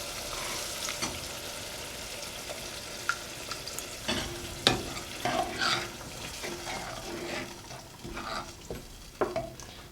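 Tamarind extract is poured into tomato masala frying in a pan for a fish gravy, giving a soft sizzle with stirring clatter and scattered splashy bursts, fairly quiet and close, with no voices.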